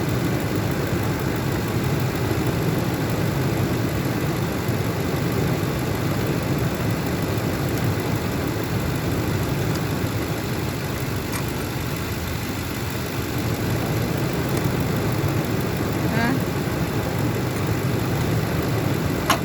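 A truck's steady, continuous engine idle rumbles evenly throughout, low and constant with no changes in pace or voices, amid a suspected alternator fault.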